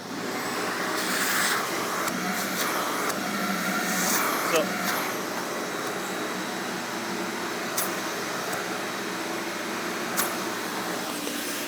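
Ridgid 5 hp, 4 gallon wet/dry vacuum fitted with a narrow 1-inch nozzle, running as a steady broadband roar for the whole stretch, with occasional faint knocks and a voice talking over it.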